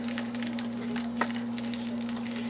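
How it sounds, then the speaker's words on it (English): Onions sautéing in a pan on a stovetop, a steady broad sizzle with a constant hum underneath and one brief clink partway through, no talking. "now what we're going to do first of all is add our onions. Put those in there."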